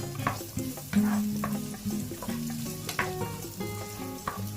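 Onions frying and sizzling in a pan while being stirred, a steady crackle with repeated scraping strokes of the spoon, close and fairly loud throughout, no talking.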